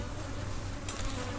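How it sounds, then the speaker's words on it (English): Honey bees swarm around an open hive during an inspection, a steady close buzz holding through the moment with no voices. "they got a lot of bees here"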